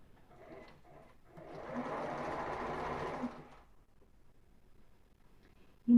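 A sewing machine runs a steady stitching burst of about two seconds on ribbed knit fabric for a tank top, with quieter mechanical handling before and after and no talk.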